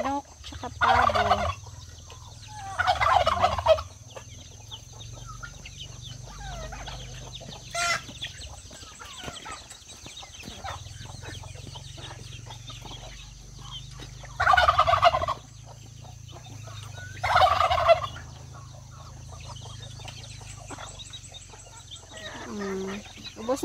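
Turkeys gobble in several loud bursts spaced across the clip, with chickens clucking and a low steady hum in between, on a farm.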